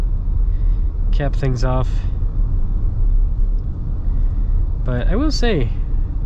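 Steady low road rumble and tire noise inside a Toyota Highlander SUV as it drives, constant and close, with someone talking over it in two short bursts.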